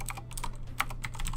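Quick bursts of keystrokes on a computer keyboard while a game title is typed in Game Dev Tycoon, crisp close clicks in an uneven rhythm with brief pauses.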